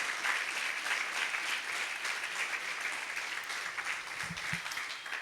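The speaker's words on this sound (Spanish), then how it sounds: "Le damos un fuerte aplauso al Señor." Steady applause from a church congregation praising the Lord during a Christian sermon, dense and sustained throughout with a couple of brief low thumps near the end.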